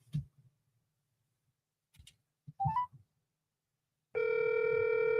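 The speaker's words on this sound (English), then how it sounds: "It's ringing." A phone call rings out: a few clicks and short electronic tones as the number dials, then a loud, steady ringing tone close up at the end, with no one speaking.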